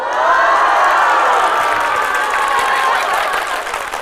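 Loud applause and cheering from a live audience at a Chinese crosstalk-style storytelling show, a dense sustained roar of clapping and whoops filling about four seconds before easing slightly at the end.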